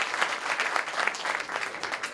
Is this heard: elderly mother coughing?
no